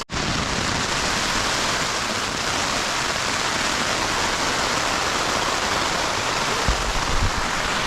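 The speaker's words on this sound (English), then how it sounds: "I hope you can hear me over the rain." Steady, heavy rain pours down continuously at a campsite in England, a dense hiss filling the scene from start to finish with no voices.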